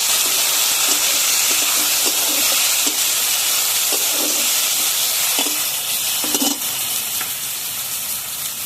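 Chopped tomato fries in hot mustard oil with panch phoron, giving a loud, continuous sizzling hiss broken by scattered light taps and scrapes of stirring.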